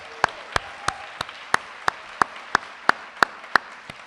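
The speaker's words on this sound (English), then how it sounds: "Can we have another round of applause" Audience applause fills an awards ceremony for philanthropists of the year: a steady wash of crowd clapping with one nearby clapper's sharp, evenly spaced claps standing out, about ten over four seconds.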